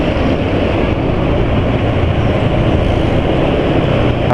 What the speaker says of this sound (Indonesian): Itu mesin 3 silinder.